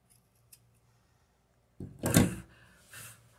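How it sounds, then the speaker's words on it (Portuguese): Scissors trimming the fringe of a doll crafted from a CD, a quiet opening followed by a close, brief crunching snip and a softer second cut. "eu vou aparar mais a franjinha dela"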